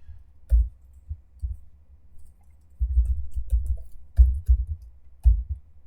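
Slow, irregular typing on a computer keyboard, soft low clicks in short clusters with pauses between, close and fairly quiet, no voices.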